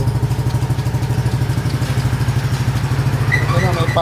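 Yamaha Aerox V2 scooter engine idling steadily up close, a loud, even low pulsing throb throughout, with a couple of brief higher tones near the end.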